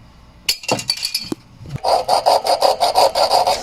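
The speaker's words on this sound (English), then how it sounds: "Sand it down." An angle grinder sands down the cut end of a pipe during a hot water tank replacement, starting with a few scattered scrapes, then settling into a steady run of rhythmic, pulsing grinding strokes, close and fairly loud.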